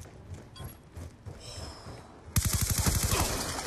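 Rapid gunfire in a first-person shooter video game erupts after a stretch of quieter ambient game sound, a loud rhythmic burst of repeated shots continuing to the end.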